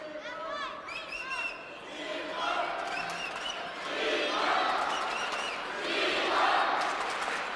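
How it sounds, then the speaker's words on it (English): Spectators at a 2017 ITTF Grand Finals table tennis match between Dimitrij Ovtcharov and Fan Zhendong cheer and chant, with the roar building in rising waves across the arena while a commentator talks over it. "Very rarely do we hear someone out cheering the Chinese fans in the crowd."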